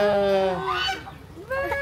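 Geese give loud, close honks: one long harsh call, then a shorter honk after a brief pause.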